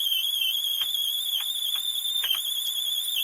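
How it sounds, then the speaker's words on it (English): A Jet variable-speed drill bores into a tobacco pipe block with a loud, steady high-pitched whine, punctuated by brief scraping bites as the bit cuts. "I'm now going to drill out the piece"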